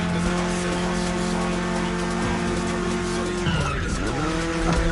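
A 1982 BMW E30 3 Series races in The Crew Motorfest, its engine droning steadily while tires squeal in a long skid that bends in pitch near the end, loud and close.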